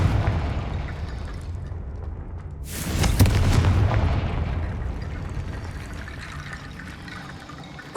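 Confringo blasting spell from Hogwarts Legacy goes off in a single heavy boom with a broad rushing burst partway through, fading into a lingering rumble beneath steady game ambience.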